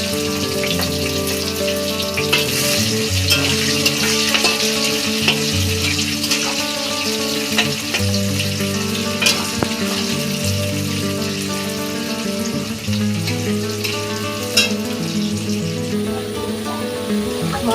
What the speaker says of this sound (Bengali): মশলাটা কষানো শুরু করে দিয়েছি।